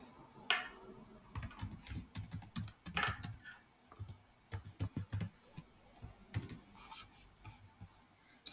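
Someone types a password on a computer keyboard, producing quiet, close, irregular clusters of key clicks with short pauses between bursts.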